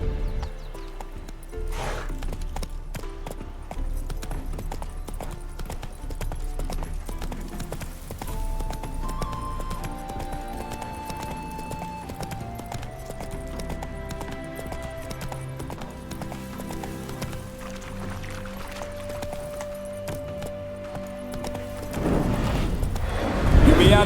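Roach the horse from The Witcher 3 trotting with steady clip-clop hoofbeats and an occasional whinny, set against a continuous orchestral music bed, with a louder clatter near the end.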